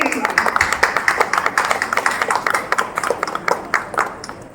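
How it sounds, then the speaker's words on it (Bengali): An audience claps for a guest coming onto a reality dance show stage, a fast, dense patter of hands that carries on evenly for several seconds before thinning slightly. "স্যার প্লিজ আমাদের মঞ্চে আসুন, আর ওনার জন্য না জোরে হাততালি"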